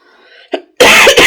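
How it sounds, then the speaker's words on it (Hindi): A person with a persistent illness coughing, a single sharp cough near the mic followed by a loud, harsh, sustained cough fit, with no talking. "सॉरी, खांसी जो है ये लगातार है, ये बिल्कुल नहीं जा रही है"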